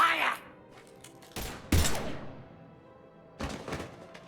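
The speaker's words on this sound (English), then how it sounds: "Now open fire!" Video game gunfire, a few heavy, booming shots and thuds with lingering reverberation, separated by quiet gaps, one burst clearly louder than the rest.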